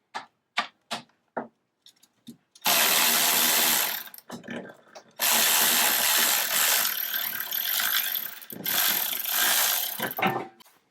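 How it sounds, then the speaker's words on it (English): Ratchet wrench loosening the lower suspension knuckle bolts on a BMW E46 325i, a few short clicks first, then long loud continuous ratcheting bursts close up with brief pauses. "Now we're removing the lower bolts for the knuckle"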